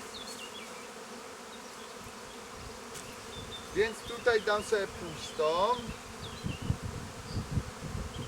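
Honey bees buzzing around the hive frames: a soft, steady drone throughout, with someone speaking Polish close by over it partway through.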